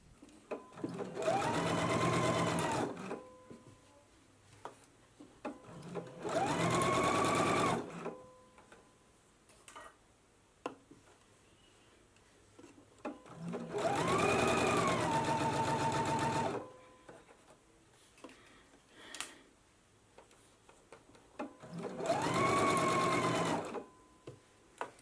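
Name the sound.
serger overlock machine finishing a sewn dress seam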